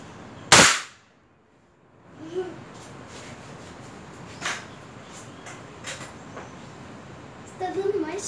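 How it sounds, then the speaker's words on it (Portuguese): A single sharp shotgun shot with standard lead shot, from a CBC Montenegro, cracks loudly near the start, followed by quieter ambient noise and a few faint knocks and rustles. "Primeiro tiro com chumbo normal."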